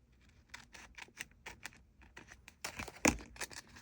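Paper being cut in half with scissors for a junk journal page, a run of close, crisp snips and crinkles with quiet gaps and one louder rustling crunch near the end.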